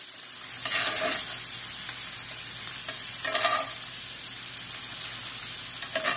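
Venison and elk stir fry meat sizzles and crackles in an oil-coated pot, with two louder bursts of frying as the meat is stirred, steady hiss between, close and fairly loud, no talking.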